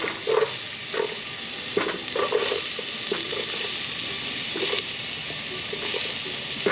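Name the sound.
onions sautéing for jambalaya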